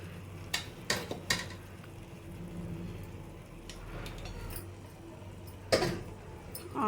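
Stirring chili powder into a fried fish curry base in a pan for Nellore chepala pulusu, a steady soft scraping and sizzle with a few louder spoon knocks against the pan.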